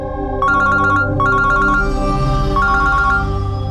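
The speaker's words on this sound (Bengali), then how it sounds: "আমি একটু ফোনটা ধরি" A telephone ringtone plays in repeated electronic bursts, a short ring, a pause, then longer warbling rings, loud and close against a steady low background hum, with no talking.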